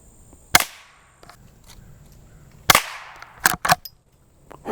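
Rossi Rio Bravo lever-action rifle fires near-subsonic rounds outdoors: two sharp, loud, close shots a couple of seconds apart, each with a short decaying tail, followed by a quick pair of metallic clacks from the lever action.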